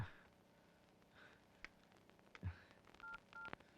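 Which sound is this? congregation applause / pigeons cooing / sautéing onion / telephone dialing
telephone dialing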